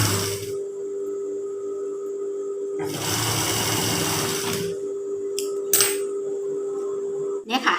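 A sewing machine stitching darts on a Thai wrap skirt with a hook closure runs in short bursts, a brief whir at first and then a longer steady run of stitching, broken by pauses and a few light clicks.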